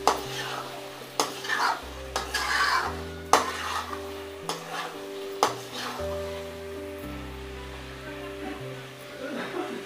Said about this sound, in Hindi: आप देख सकते हैं कितनी अच्छी तरीके से हमारा कोफ्ता रेडी है। अभी हम इसे और 5 मिनट पकाएंगे।